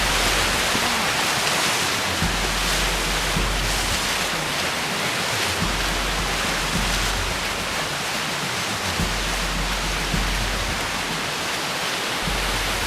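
Whitewater river rapids roar steadily around a solo cataraft on a remote run, a loud, continuous broadband rush of churning waves and surf with no talking.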